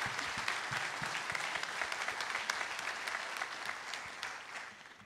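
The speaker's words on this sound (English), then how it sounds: "can we give another round of applause for everyone who helped out this week?" Sustained audience applause at a church vacation Bible school gathering, dense and steady throughout, fading slightly at the end.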